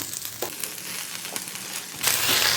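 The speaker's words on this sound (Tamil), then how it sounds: "லோ ஃப்ளேமில் வச்சு நல்லா வதக்கிட்டே இருக்கலாங்க" Spinach sizzles and crackles over low flame in a wide kadai, with crisp bursts of frying that grow louder and steadier near the end.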